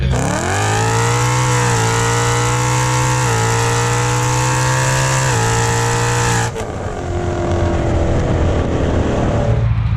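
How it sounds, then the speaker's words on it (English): A 1200 hp twin-turbo Mustang GT with an open dump revs loudly and close by, its engine note climbing in stepped pulls before cutting off into a rough, lower idle. "what I'm looking forward to is hearing this thing basically open dump"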